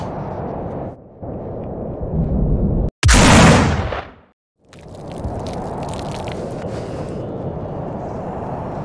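Loud close gunshot blasts from a weapon in the zombie shooter game No More Room in Hell, a sustained roar of firing with one sharp burst that cuts off into brief silence before the din resumes.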